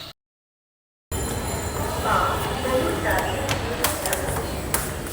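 A metro train runs steadily with a continuous rumble and rail noise, starting abruptly after a brief silent gap and continuing evenly, with faint clatters and a few sharp clicks on top.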